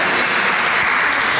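A church congregation applauds during a Church of Christ sermon, a dense, loud, steady burst of many hands clapping together, close and continuous through the brief moment.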